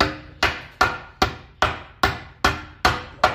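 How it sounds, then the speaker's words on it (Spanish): A hammer taps a heated bushing into a car suspension part with nine evenly spaced, sharp metallic strikes, close and loud, each ringing briefly before the next. "con unos pequeños golpecitos con el martillo de tal"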